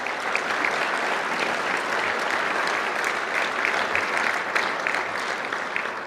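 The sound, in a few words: audience applause at Hall of Fame induction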